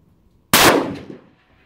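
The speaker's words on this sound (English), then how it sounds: "We're going to get on this gun, fire 5 more shots for the score." A single sharp Ruger Precision Rifle shot fired at a paper target outdoors on a calm range, a loud crack after brief quiet, then a decaying boom and echo that fades within about a second.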